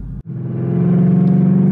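A 2019 Ford Mustang Bullitt V8 revs hard after a brief gap, its deep engine note rising and then holding loud and steady, close by.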